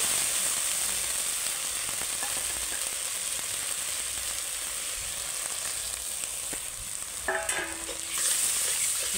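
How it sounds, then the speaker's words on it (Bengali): Spice paste of turmeric, chili powder and salt frying in oil for a bhola fish curry, a continuous close sizzle with brief scraping and clattering stirs near the end, no voices. "দিয়ে তেল ছাড়া পর্যন্ত ভালো করে কষে নেবো"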